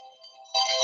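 A phone ringtone trills with a thin electronic tone that swells abruptly into a louder, brighter ring partway through, heard alone with no talking.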